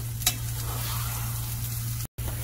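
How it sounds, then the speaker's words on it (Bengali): Potato paste sizzles and fries in oil in a pot for a one-pot egg and potato dal, a steady close crackling hiss with a low hum underneath and a brief dropout near the end. "আমাদের এখানে আলু পেস্ট গুলো কষানো হয়ে গিয়েছে"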